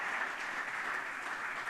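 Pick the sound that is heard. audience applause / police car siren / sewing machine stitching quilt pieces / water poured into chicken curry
audience applause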